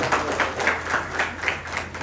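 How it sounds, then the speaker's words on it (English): Audience applause at a Sunday English Love Feast class at ISKCON Mira Road, steady clapping from a seated crowd throughout, moderately loud and without talk. "One big round of applause for Hemant for this question."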